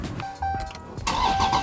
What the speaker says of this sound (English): the car is gonna be running for a second